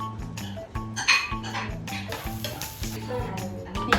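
Prawn shells fry in oil for tom yam noodles, with bubbling sizzle, crackle and irregular scraping and clattering of a utensil against the pan up close, loud at moments and free of talk.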